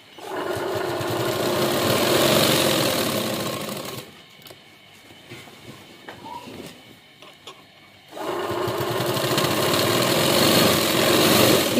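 A sewing machine stitching the side seam of a bridal sharara runs in two loud, steady bursts of rapid whirring, about four seconds each, separated by a quieter pause with faint handling sounds.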